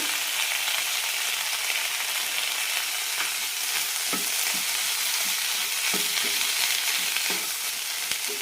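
Chopped onion and tomato frying in a pan for a Palakkad-style tomato chutney, a steady close sizzle throughout with occasional soft taps and scrapes of a stirring spoon.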